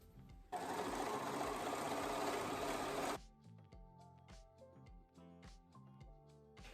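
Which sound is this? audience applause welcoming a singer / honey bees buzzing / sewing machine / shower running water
sewing machine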